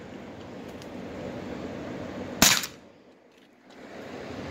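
A single sharp crack from a Crosman 3-inch air revolver, close and loud against steady background hiss, fading quickly into a brief quiet.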